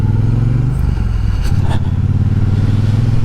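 A Triumph T120 motorcycle's parallel-twin engine runs loud and close, revving up and settling back with a deep, throbbing idle and a brief throttle blip in the middle, no talking.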